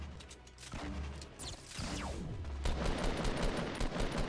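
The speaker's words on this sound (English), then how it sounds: "He's being shot at, by the way." Gunfire in the Fortnite video game, a continuous barrage of rapid shots with bursts layered over busy game noise, steady and fairly loud throughout.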